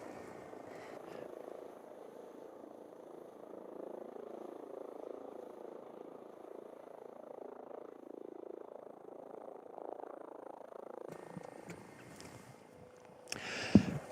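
A helicopter with a sling load lifts off at a freeride ski competition in Silvretta Montafon, a low steady rotor rumble heard from a distance for the whole stretch, with rustling wind and handling noise toward the end.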